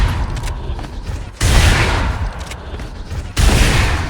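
Loud, close sniper rifle shots in a shooting game's practice range, fired at a steady pace: each crack opens a long booming tail, and there is no talking over them.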